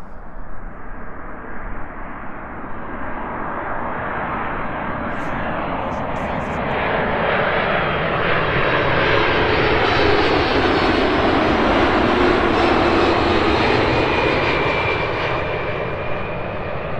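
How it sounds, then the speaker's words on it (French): A jet airliner roars overhead on landing approach, heard from the ground, its engine noise swelling louder and brighter as it passes close by, then holding a heavy, sustained rumble. "On va voir un atterrissage d'un avion, vue du sol."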